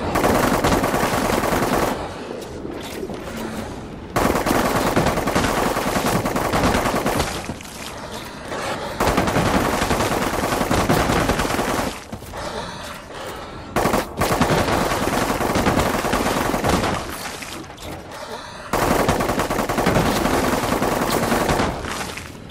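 Gunfire from guns in the video game The Cycle: long, loud bursts of rapid automatic fire, broken by short pauses, repeating throughout with no talking.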